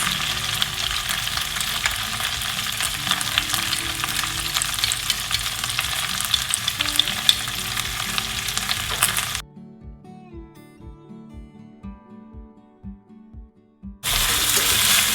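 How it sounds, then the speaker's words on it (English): Okra and green chilies sizzle loudly and steadily in a hot pan for several seconds, then give way to soft music with a gentle beat. "It started to sizzle."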